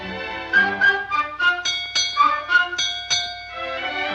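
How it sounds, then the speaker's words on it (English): A ship's bell struck four times in a steady sequence, each clear ringing tone decaying into the next, moderately loud and close. "Four bells and all's well."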